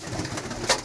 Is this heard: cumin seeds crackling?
no